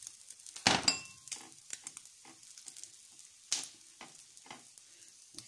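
French toast sizzles and fries in oiled pan, a steady close crackle with a louder burst early on and another flare midway, with faint pan and utensil clinks scattered throughout.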